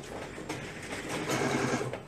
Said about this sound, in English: And then we're just going to sew along the neckline.